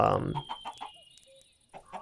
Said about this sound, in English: Obviously our chickens have grown